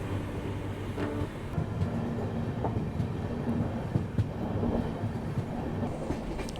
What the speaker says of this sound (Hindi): अपनी ट्रेन पहुंच रही है